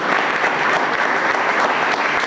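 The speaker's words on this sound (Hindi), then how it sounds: "आइए हम परमेश्वर को धन्यवाद देंगे और उसकी ताली से स्वागत करेंगे।" A church congregation claps together during a Sunday service, steady and loud, with dense overlapping hand claps and a faint voice mixed in.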